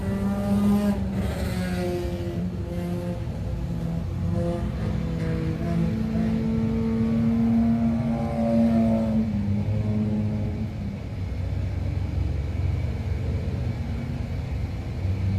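Race cars running laps at Can-Am Speedway, a loud, continuous engine roar whose pitch climbs and sweeps as the cars pass, then settles into a lower, steady drone.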